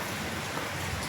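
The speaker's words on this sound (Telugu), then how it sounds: "మళ్ళీ పెద్ద వర్షం స్టార్ట్ అయింది" Heavy rain pours steadily at the Khetlaji temple in Rajasthan, a dense, continuous wash of drops without pause, loud and close.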